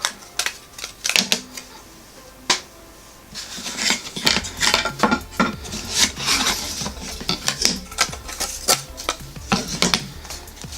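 Laser-cut MDF pieces for a tabletop dice tower kit snapping out of their sprue boards: sharp close clicks and cracks, scattered and then denser, over light scraping and handling noise.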